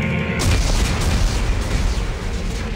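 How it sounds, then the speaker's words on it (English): Explosives detonate with a sudden loud boom in Dead Space 3, followed by a sustained heavy rumbling roar that carries on for a couple of seconds. "Computer, arm explosives, and detonate."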